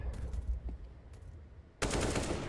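Gunfire in the video game Counter-Strike on the Vertigo map, a faint distant burst, then a loud close burst of rapid shots at the end.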